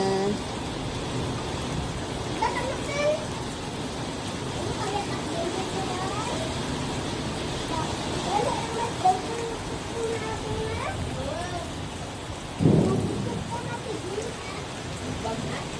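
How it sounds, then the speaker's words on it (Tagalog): Steady rain hissing throughout with distant low rumbles of thunder, while voices talk and call out faintly in the background. "Ulan na."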